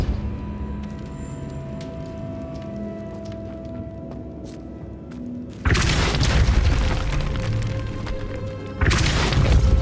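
Depulso spell blast in Hogwarts Legacy, a quiet ambient stretch broken by a loud booming burst that rumbles on, then a second booming hit near the end, no speech.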